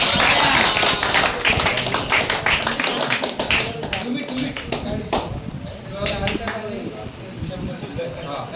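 Crowd applause at a felicitation ceremony for singers and musicians in Shrivardhan, dense rapid hand claps, loud at first and gradually thinning, with voices mixed in.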